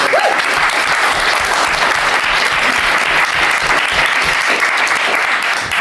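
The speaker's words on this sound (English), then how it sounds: "A round of applause." A big audience at a 2000 AD comics writing competition panel at Thought Bubble 2018 breaks into a loud, sustained round of applause, dense and steady for about six seconds.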